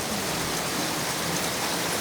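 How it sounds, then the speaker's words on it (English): Steady, dense rain falls at the start of the rainy season, a loud continuous hiss with no breaks and no voices. "Rain."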